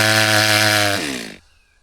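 A STIHL MS 363 chainsaw fitted with a 50 cm bar, used in timber felling, holds a loud, steady, buzzing engine whine that drops in pitch after about a second and then cuts out quickly.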